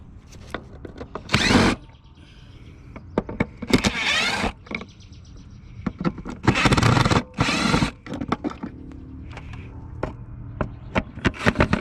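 A power driver fitted with a T30 Torx bit backs out screws on a 2010 Audi A4 2.0 air filter cover, giving several loud bursts of whirring motor spaced by short pauses and small clicks and rattles.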